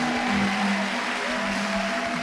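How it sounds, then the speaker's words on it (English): A church congregation claps in a dense, steady wash of applause, continuous and fairly loud for a couple of seconds, with a sustained organ-like tone beneath. "can you give God a clap offering?"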